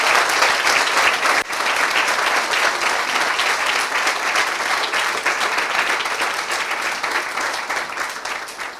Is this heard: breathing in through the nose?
no